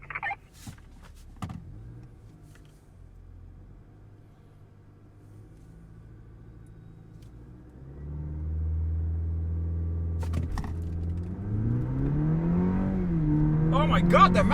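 Cadillac CT4 and Mazda3 turbo sedans launching in a drag race: a low idle with brief clicks and talk, then the engine note jumps in loudness and climbs steadily in pitch, heard from inside the car.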